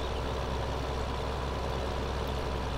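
Tractor engine from the Farming Simulator 15 game runs steadily in a low, continuous idle-like drone with no talk over it.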